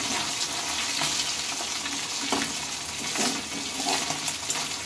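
Fish heads frying in hot oil in a home kitchen, a steady dense sizzle and crackle that fills the whole stretch with small pops and bubbling spikes, close and fairly loud with no voices.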